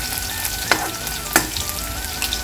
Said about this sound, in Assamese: অকণমান লৰাই ল'ম এতিয়া পিঁয়াজখিনি অকণমান গোল্ডেন ব্ৰাউনিছ হৈ যোৱালৈকে